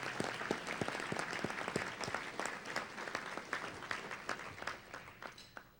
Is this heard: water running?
no